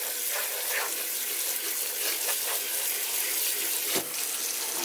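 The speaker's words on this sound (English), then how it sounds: "Sorrel, me say wash this sorrel." Sorrel being washed under a running kitchen tap for a Jamaican sorrel drink: a steady, loud rush of water splashing into the sink for several seconds, with a brief clunk near the end and no speech.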